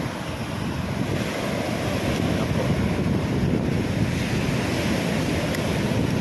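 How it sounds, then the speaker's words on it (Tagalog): Heavy surf from a storm roars continuously, a dense, loud wash of crashing water mixed with gusting wind buffeting the microphone. "Dahil po may bagyo, malakas po yung alon."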